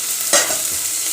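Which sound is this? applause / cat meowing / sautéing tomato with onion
sautéing tomato with onion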